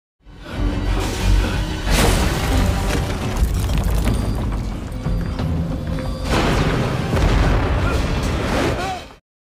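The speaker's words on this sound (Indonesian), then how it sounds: "saat menara kontrol itu meledak lalu hancur" Loud rumbling explosions from a control tower in a video game, with bursts and crashing debris, a sustained roar that swells twice before cutting off abruptly.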